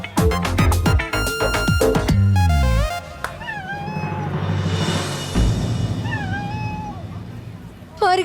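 A cat meows in a street scene, a few short rising calls heard amid music and voices, moderately loud but partly masked by the surrounding mix.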